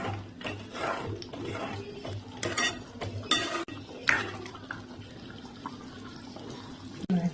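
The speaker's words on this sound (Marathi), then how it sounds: "मस्त मिक्स करून घेऊ भाजीला" A spoon stirs and scrapes through dal dhemse vegetable curry in a pan, with wet clinks and soft scraping strokes at an irregular rhythm, close and fairly quiet.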